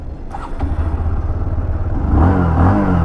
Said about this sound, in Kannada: ಎಕ್ಸಾಸ್ಟ್ ಸೌಂಡ್ ಈ ಥರ ಕೇಳಿಸುತ್ತೆ